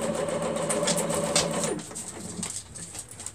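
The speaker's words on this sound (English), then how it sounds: "we're going to back stitch now" A sewing machine stitches in a steady motorized whir for nearly two seconds, then stops, leaving quieter room sounds and faint rustling behind.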